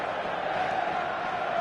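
A stadium crowd in an eFootball match makes a steady, even roar of murmuring spectators, continuous and moderately loud with no distinct cheers or voices standing out.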